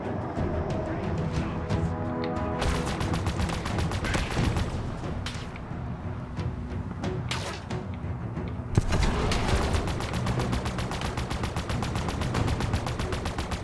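Enemy gunfire in Halo Infinite comes as repeated automatic bursts and rapid single shots, loud and sharp, with one heavier blast partway through and no talk over it.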